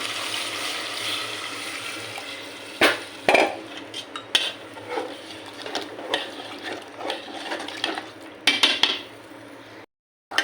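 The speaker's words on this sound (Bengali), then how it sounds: "এই তো আমার মাংসটা কষানো হচ্ছে, আর প্রায় হয়েও গেছে কষানোটা।" Beef being stirred and sautéed in a pot, with a spoon scraping and clinking against the metal in irregular bursts over a steady low sizzle, close by and moderately loud; no voices.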